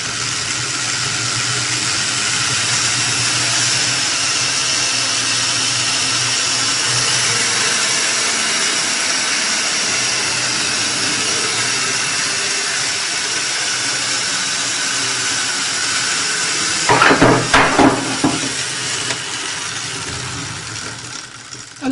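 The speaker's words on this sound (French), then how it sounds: "Alors je fais tourner mes deux aimants." A magnet machine with two spinning magnets runs with a loud, steady whirring hum throughout, broken by a brief rattling clatter near the end.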